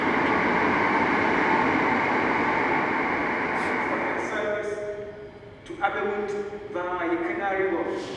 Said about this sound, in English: coincidentally, luckily, the train is right here